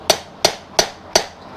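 Four evenly spaced, sharp metallic taps of a hammer striking the end of a screwdriver to free a stuck bolt, close and clear with short ringing decays and nothing else underneath.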